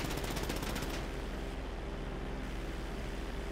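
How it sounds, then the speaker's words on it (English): Rapid gunfire in Grand Theft Auto strikes a plane's wing, a dense crackling burst that is loudest in the first second, over the steady roar of aircraft engine noise. "Would you stop shooting the wing?"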